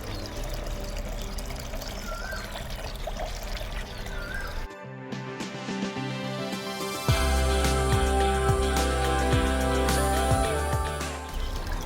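Water is poured steadily into a fermented rice-water and jaggery mix to thin it for watering okra plants; the pouring starts quietly, then becomes a loud, continuous splashing stream that lasts to the end.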